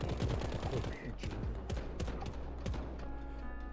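Sniper rifle and other gunfire in the shooter game Warbound, several sharp shots and thuds scattered over a steady dense background of battle noise, with faint speech mixed in.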